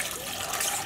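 Water pours steadily into a dyepot for dyeing yarn with avocados, a continuous close splashing rush with no pause and no talk.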